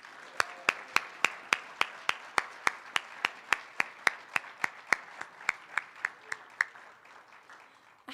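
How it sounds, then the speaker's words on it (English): Applause for graduates at an intercultural graduation ceremony comes through as about twenty sharp, evenly spaced hand claps at a steady rhythm. They sound close and fairly isolated and stop abruptly near the end. "How about we give our graduates another round of applause?"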